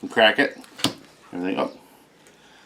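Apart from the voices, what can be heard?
No distinct noise like a dog, phone or traffic.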